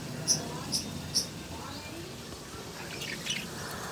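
Small birds chirp from a nest with chicks, three short high chirps in quick succession followed by fainter twittering, against a steady background hum.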